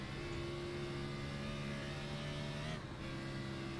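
A race car engine at Road America holds a steady high drone as it climbs the hill. A brief dip near the end breaks the sustained, loud tone, which plays alone without talk.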